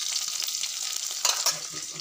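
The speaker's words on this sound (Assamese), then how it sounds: "এইফালে সৰু মাছ, এইফালে মিঠাতেল গৰম হৈছে, পিঁয়াজ দি দিছোঁ" Small fish and onions frying in hot mustard oil, a continuous bright sizzle with a brief louder crackle of stirring midway, heard close with no talk.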